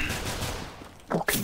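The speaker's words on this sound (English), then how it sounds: "are you shooting me?" Gunfire in a video game: a dense burst of rapid shots up front, then two short sharp blasts near the end, loud and close.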